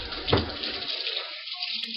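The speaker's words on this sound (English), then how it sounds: "rinse and dry my hands a little bit just to get all the yolk off" Water runs from a kitchen tap as egg yolk is rinsed off hands, a short, close, steady splash that thins out partway through.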